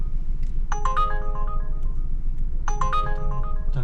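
A phone rings with an Uber Eats order notification: a bright, melodic chime of descending tones plays twice, loud and close, over a steady low hum of a car interior with no talk.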